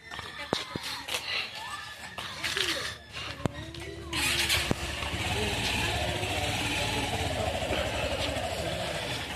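A boat engine at Kashthashali ghat on Chupir Char turns over and settles into a loud, steady running drone, preceded by scattered clatter and movement noise nearby.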